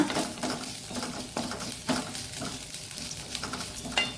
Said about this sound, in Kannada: ಸ್ವಲ್ಪ ಕಾಳು ಮೆಣಸಿನ ಪುಡಿ ಅಥವಾ ಕಾಳು ಮೆಣಸು ಮತ್ತು ಸ್ವಲ್ಪ ಜೀರಿಗೆ ಇಷ್ಟನ್ನು ಹಾಕ್ಕೊಂಡು ಇದನ್ನು ಒಮ್ಮೆ ಸ್ವಲ್ಪ ಒಳ್ಳೆ ಹುರಿಯೋಣ